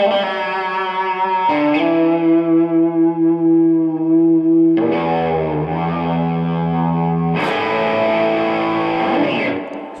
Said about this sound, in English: definitely has some nice feedback, not over the top, you can still play